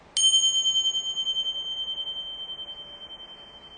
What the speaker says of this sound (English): right now I'm just going to ring these bells and just listen to the bell